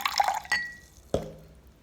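Water goes into sodium chloride in a small lab container to dissolve it, making a few brief, close drips and splashes that fade quickly with no talking.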